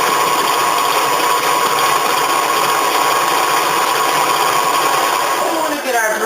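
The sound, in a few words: electric mixer on speed 4 creaming butter and sugar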